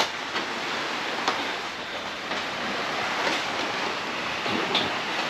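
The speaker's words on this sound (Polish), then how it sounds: "To tylko szum morza" Steady broadband roar of sea surf at Mong Tung Wan, Hong Kong, heard on a rainy evening, a continuous wash of waves without distinct breaks, fairly loud and unbroken by speech.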